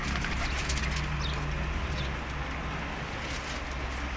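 A colony of pigeons, including golden-coloured birds, coos softly and continuously against a steady wash of broadband background noise, with no voices in between.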